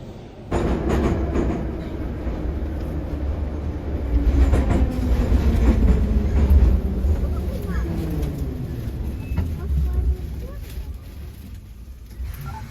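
Metro train riding through the Kyiv subway, used as a bomb shelter, with a loud steady rumble and rhythmic wheel clatter filling the carriage while people talk over it.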